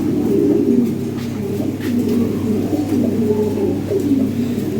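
Lahori Sirazi pigeons of an imported European bloodline coo steadily in a loft, several birds overlapping in low, continuous throaty calls with no talking.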